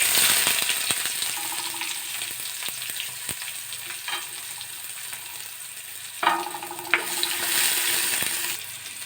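Onions hitting hot cooking oil seasoned with cumin seeds, bay leaf, cloves and cardamom, for a Bengali-style flattened rice (chira) pulao: steady close sizzle and frying hiss with occasional stirring clinks and scrapes.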